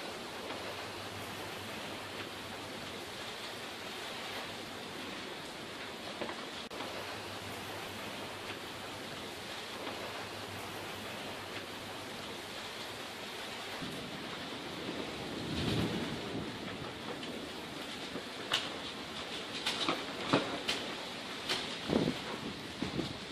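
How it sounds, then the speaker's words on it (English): Heavy rain pours steadily over a Tucson neighborhood, a broad continuous roar with a low thunder-like rumble partway through and sharper splashes and gusts building toward the end, rain driving into an open garage. "the rain is entering my garage"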